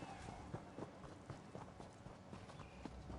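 Horse hooves clip-clop in Elder Scrolls Online, a soft, fairly quick run of rhythmic thuds under faint background sound.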